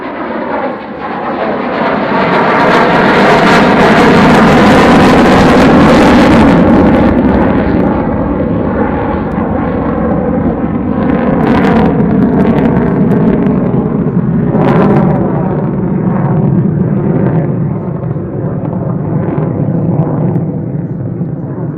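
A propeller aircraft engine drones loudly and steadily, swelling as it passes close by, then holding a throbbing roar as it continues overhead.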